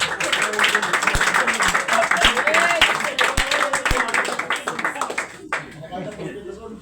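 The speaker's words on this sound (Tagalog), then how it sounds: "Palakpak para sa Diyos." A church congregation claps loudly and steadily for several seconds with a few sharp thumps and voices underneath, then the applause fades out.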